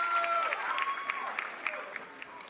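A pickleball championship crowd applauding at an indoor match, a soft, fairly distant patter of clapping that fades over a couple of seconds while a commentator talks over it.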